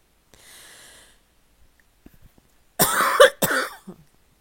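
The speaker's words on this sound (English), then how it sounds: "Sorry about the coughing" A person coughs in two sharp, loud bursts close by after a quiet stretch with a faint breathy sound earlier.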